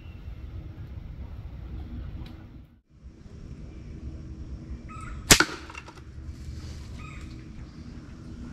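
A single sharp arrow release from a Mini Striker crossbow aimed at a squirrel, a brief crisp snap with a short rattle after it, alone in quiet woodland ambience.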